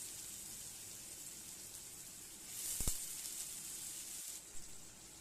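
Cubed potatoes drop into hot oil with blackened cumin seeds in a pan, giving a steady hiss that swells into a louder, fuller sizzle midway before easing back down.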